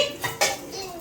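Saucepan and utensils clattering in a home kitchen while a double-egg omelette is made, two sharp metallic knocks over a short, busy stretch of close clinking with no talk.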